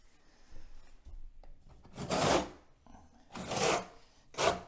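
Trowel pushing tile adhesive onto a shower wall, three broad scraping sweeps close by, each a rough smeared rasp lasting about half a second, with quiet handling noise between them.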